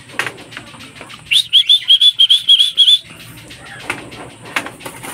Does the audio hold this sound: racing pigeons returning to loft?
yes